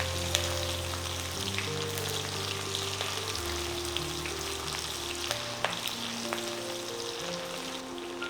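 Dry red chilies, ginger, garlic and green chilies fry in hot oil with a soft, steady sizzle and a few light clicks, close up and fairly quiet, with no voices.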